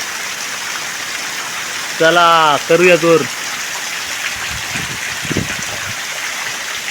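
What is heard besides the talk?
heavy rain on rice paddy fields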